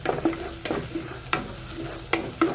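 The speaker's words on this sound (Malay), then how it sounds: "kita tumis ni sampai dia wangi" Garlic stir-frying in a wok while bihun kicap is being made: a steady, low sizzle runs underneath, broken by several sharp scraping strokes of a spatula against the pan, with no talking.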